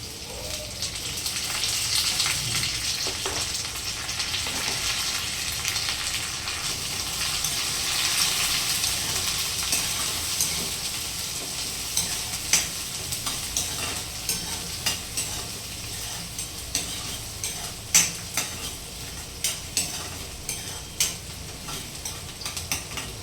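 Curry leaves frying in hot oil for a home-cooked beans dish, a steady loud sizzle and crackle close up, with occasional scrapes and clinks of a spoon stirring in the pan.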